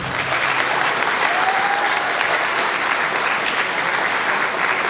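A final round of applause for the spellers at a district spelling bee, dense, loud crowd clapping that holds steady throughout with no break.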